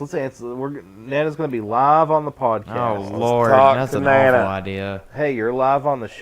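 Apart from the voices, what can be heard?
None of the usual background noises is heard.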